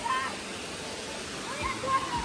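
Water rushes steadily down the Bahubali Jharana mountain waterfall, running somewhat lower than usual, as a continuous broadband roar with faint voices mixed in beneath it.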